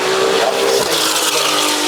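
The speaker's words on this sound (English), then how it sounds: "that sports exhaust is really allowing us to hear that 3-litre" Ferrari F80 with its 3-litre engine breathing through a sports exhaust at the Goodwood Festival of Speed, a loud, continuous close-up roar held steady throughout with no talking.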